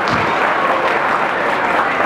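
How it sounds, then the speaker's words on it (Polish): Steady, dense applause from an audience at a Valentine's Day makeover event at a shopping mall, loud and continuous throughout without a break. "Zasłużył na brawa, drodzy Państwo."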